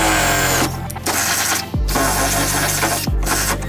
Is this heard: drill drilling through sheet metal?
yes